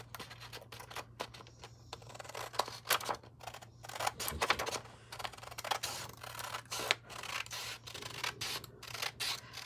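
Paper has its edge cut off by hand for an envelope journal, heard as a close run of sharp snipping and rasping strokes in uneven bursts.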